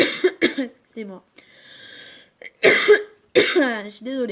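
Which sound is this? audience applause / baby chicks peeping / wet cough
wet cough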